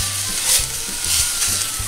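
Sugar sizzles and crackles as it starts caramelizing in a hot frying pan just used to cook beef fillet, a steady close frying hiss with a few soft stirring knocks.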